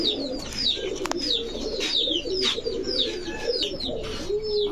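Racing pigeons coo softly and repeatedly, several low calls overlapping, with occasional chirps from other birds in the background.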